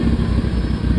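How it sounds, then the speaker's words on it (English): A motorcycle engine strains under a hard throttle in too high a gear, giving a loud, close, low rumbling drone for a brief moment without climbing in pitch. "I'm cracking the throttle hard as crap, and it's not going up because the gear is too high for the speed"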